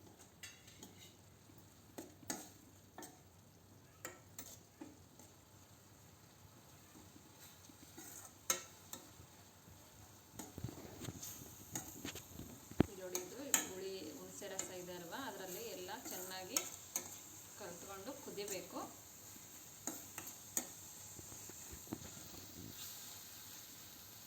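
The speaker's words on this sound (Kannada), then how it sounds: "ಇದಕ್ಕೆ ಇವಾಗ ಬೆಲ್ಲ ಹಾಕೋಣ ಇದನ್ನೆಲ್ಲ ಚೆನ್ನಾಗಿ ಮಿಕ್ಸ್ ಮಾಡ್ಕೊಳ್ಳಿ" A spoon scrapes and clicks against a pot as jaggery is mixed into a North Karnataka girmit mixture, giving irregular close stirring knocks and soft scraping that grow busier partway through, with a faint background hiss.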